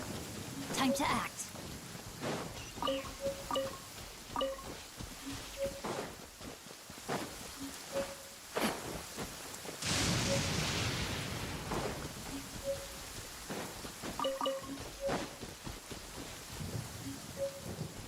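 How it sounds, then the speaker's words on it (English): Steady rain in Genshin Impact hisses throughout, swelling into a heavier downpour partway, with chiming tones and occasional speech-like sounds layered over it. "The rain has stopped."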